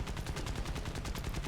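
Rapid, continuous burst of 7.7mm machine-gun fire from an A6M2 Zero fighter in the War Thunder combat flight game, loud and close, with tightly spaced shots and no talking.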